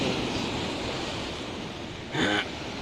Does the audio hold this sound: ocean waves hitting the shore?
yes